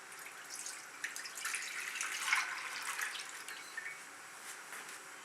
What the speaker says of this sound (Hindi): अब मैं पैन में डालूंगी 1 लीटर दूध